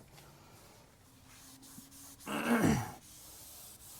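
Towel wipes cleaner off a Cybertruck door sill in one short rubbing swipe, near and moderately loud, following quiet handling.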